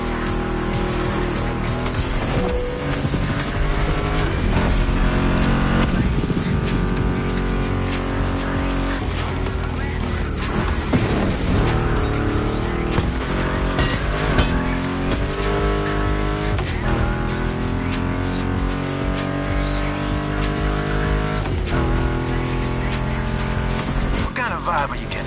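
A Ford Mustang GT muscle car engine roars and tires squeal in The Crew Motorfest racing game, loud and continuous under guitar music and a voice.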